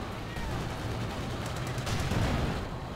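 Support gun fire in a tank combat video game, a dense, continuous barrage of booming shots and rumbling impacts that stays loud throughout the few seconds.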